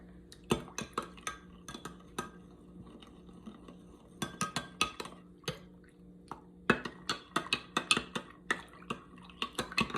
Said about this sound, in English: we are gonna give that a stir